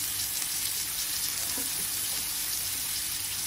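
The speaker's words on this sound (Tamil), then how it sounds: "நல்லா வதக்கி கொடுங்க அந்த எண்ணெயில்" Onions, green chillies and curry leaves sauté in hot oil with a steady, close, bright sizzle that holds evenly throughout, with no voices.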